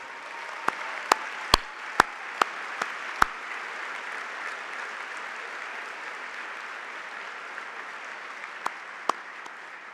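Audience applause at a Texas Business Hall of Fame induction dinner honoring former scholars and veteran award recipients, a dense, steady ovation of many hands filling a large room, with a few sharper claps standing out.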